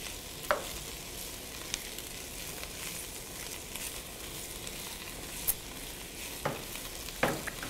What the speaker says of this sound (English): These onions are cooking up.